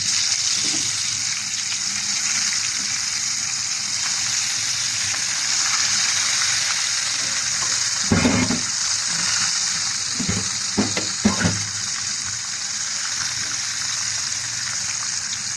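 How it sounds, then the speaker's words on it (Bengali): Fish frying in oil in a pan gives a constant loud sizzle and crackle, broken by a few sharp clunks and stirring knocks partway through. "এখানে মাছ ভাজি, আর দেখেন পেঁয়াজ রসুন মরিচ সব এখানে"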